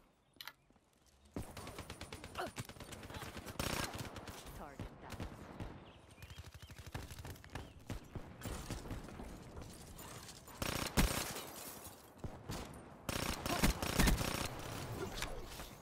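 Rapid bursts of automatic gunfire from a Call of Duty match, dense volleys and single shots repeating in clusters throughout, mixed with game effects and a voice talking over them.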